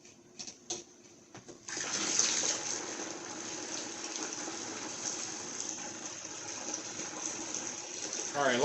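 Water rushes steadily out of a 2012 Chrysler 200 3.6 heater core during a flush, after a few brief knocks, a continuous close gushing that stays fairly even to the end.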